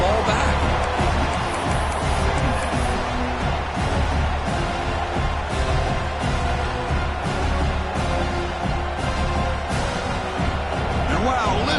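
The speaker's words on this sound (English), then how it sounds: "listen to this crowd noise. This stadium is vibrating." A roaring stadium crowd at a USC football game keeps up a loud, continuous wall of cheering and noise for about twelve seconds, with a voice talking underneath.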